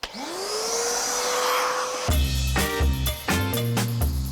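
Car-upholstery washing vacuum with a separator extracting water, spinning up to a rising whine, then loud gurgling suction bursts as the nozzle pulls water.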